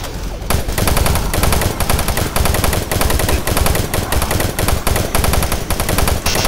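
Rapid, loud automatic weapon fire in the shooter game Doom 3, a dense continuous stream of gunshots with short pauses between bursts and no talk.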